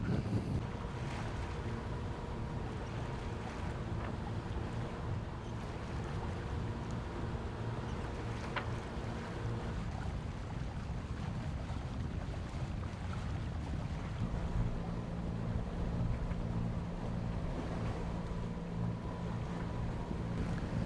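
A sailboat motors under engine across a flat, windless sea between Turkey and Greece. Its low, steady drone runs throughout, with gusty wind rumbling across the microphone.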